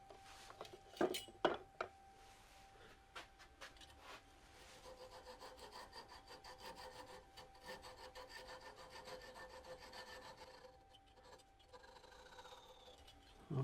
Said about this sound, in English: let's take a flush cut saw and saw that off